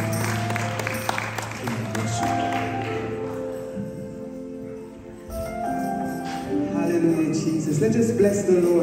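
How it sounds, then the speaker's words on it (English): Applause from a church worship congregation mixes with music and voices, fading briefly in the middle before swelling again. "Let's give her a round of applause"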